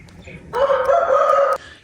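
A Korean breed rooster crows once, loud and close, a single sustained call of about a second that cuts off sharply, with quiet background before and after.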